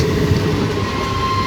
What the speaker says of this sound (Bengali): ব্যান্ডেল রেলওয়ে জাংশন অভিমুখে যাচ্ছে।